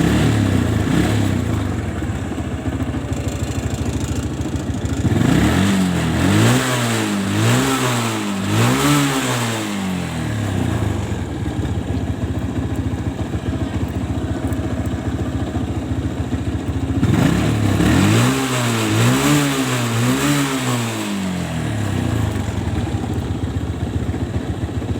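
A Kawasaki ZX motorcycle with an unstable stator output that burnt out its regulator and battery is revved hard in two separate sequences, each a run of rising and falling throttle blips. The bike idles loudly and close in between.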